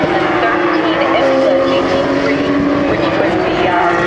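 GT3-class Porsche race cars at speed, a loud continuous engine drone with a steady tonal whine, close and unbroken throughout.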